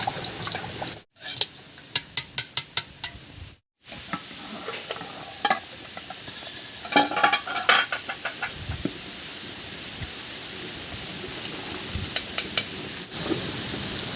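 Lightly mashed urad dal is poured into a hot kadai for a village-style dal, with clanks of a spoon, bursts of sizzling and bubbling, and stirring sounds that run close and moderately loud without talk.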